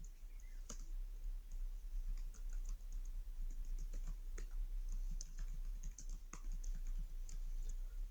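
Code being typed on a computer keyboard for a React JS star rating app, a quiet, irregular patter of key clicks with short pauses between bursts, close and alone without speech.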